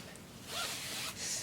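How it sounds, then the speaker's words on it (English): Clothing zippers are handled and gathered up during a bedroom declutter, making a faint, brief rustling and zipping sound over quiet room tone, with no talking. "I think there's only like 4 zippers per color"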